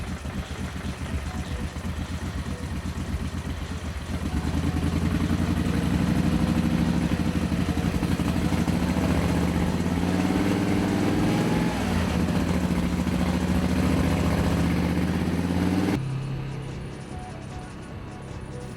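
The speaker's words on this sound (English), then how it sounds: "Here's where they test engines for cars and motorcycles." Car and motorcycle engines running on a test rig, a steady loud mechanical drone with a throbbing low hum that swells and holds, then drops away near the end.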